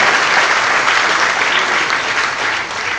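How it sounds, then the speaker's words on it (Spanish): Audience applause at a Spanish-language forum event, a steady dense clapping wash that runs loud and continuous through the whole stretch with no voices over it. "Un aplauso."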